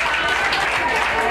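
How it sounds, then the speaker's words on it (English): Dense, steady applause from a crowd fills the short stretch, a continuous wash of clapping at an even level throughout. "Oh, I gotta love that applause."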